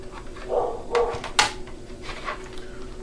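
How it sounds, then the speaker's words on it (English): A dog barks somewhere outside at a flea market, a few short, muffled barks spread over a few seconds against a steady background hum, with no talking. "My dog's barking at something out there."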